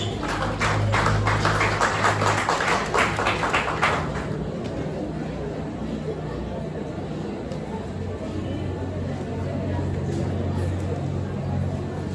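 Clapping ripples through a congregation at a funeral service in a Maranatha church, a brief burst of applause that stops after a few seconds, giving way to a low hum of room noise and murmuring.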